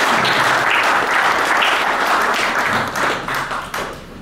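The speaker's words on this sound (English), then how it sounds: "we're going to turn it over to you with a round of applause" Steady audience applause at an entrepreneur event on raising money with Kickstarter, a dense crowd clapping loudly for the whole stretch and thinning slightly toward the end.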